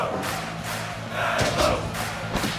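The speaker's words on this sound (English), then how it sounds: "And the crowd getting fired up" A wrestling crowd in a house show gets fired up, roaring and shouting in several swelling bursts, loud and close, with thumps mixed in.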